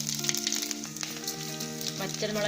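Mustard seeds, cumin and dried red chilies fry in hot oil for a rasavangi tempering, a steady crackling sizzle running throughout with a faint tonal hum beneath.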